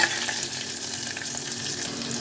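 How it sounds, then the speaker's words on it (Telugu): Green chilli, garlic, cumin, mustard and fenugreek seeds fry in hot oil for a red chilli pickle, a steady close sizzle with light stirring and no voices. "ఒక పచ్చిమిర్చి, కొన్ని వెల్లుల్లిపాయలు, ఇదంతా బాగా ఫ్రై చేసుకోవాలి."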